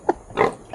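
A pig gives a few short grunts in quick succession, close and fairly clear, in a brief burst.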